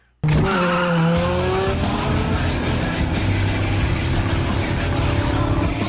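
A Dodge Charger and a Viper race off-road in a film scene: a sudden loud burst of revving engines and squealing tires, with rising engine whine and a continuous roar close up.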